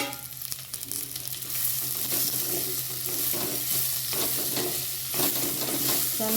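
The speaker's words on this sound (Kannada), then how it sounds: "ಇದು ಸಹ ಅದ್ರ ಜೊತೆ ಮಿಕ್ಸ್ ಆಗಿ ಈರುಳ್ಳಿ ಸಹ ಕೆಂಪು ಬರೋ ತನಕ ಹುರಿಬೇಕು" Chopped onions sizzle steadily in hot oil in a pan for a Kannada-style small fish curry, with a spoon scraping and stirring through them in irregular strokes; close, continuous frying without talk.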